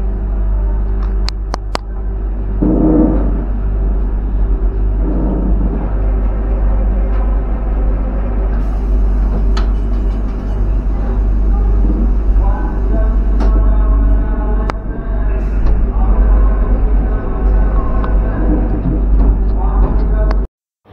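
A steady, deep rumble fills the cabin of a Vande Bharat Express running from New Jalpaiguri toward Howrah after leaving Malda. Occasional faint clicks sit over the constant droning motion.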